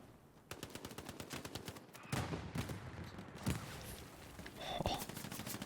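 Machine gun fire rattles in a competitive multiplayer street battle, a dense stream of sharp rapid shots with a few heavier bursts standing out, while faint game sounds and voices sit underneath.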